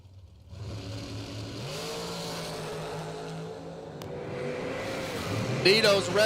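A Collegeville M&M chassis dragster at a drag race, its engine droning and rising in pitch at a distance, growing louder toward the end as another engine revs.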